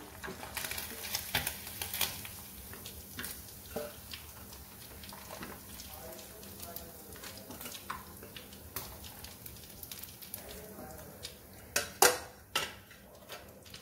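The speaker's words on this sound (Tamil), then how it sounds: "மீதி இருக்கிற மீனும் இதே மாதிரி போட்டு எடுத்துக்கலாம்" Anchovy pieces for a fish chilli frying in oil, a low, uneven sizzle broken by scattered spoon scrapes and clinks against the pan, with two sharper metallic knocks near the end.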